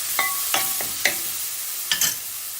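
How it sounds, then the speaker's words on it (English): Stirring turmeric powder into a sizzling sea bass curry, with a few distinct spoon scrapes against the pan spaced through a soft, steady frying hiss. "Then add some turmeric powder to it. Keep stirring it."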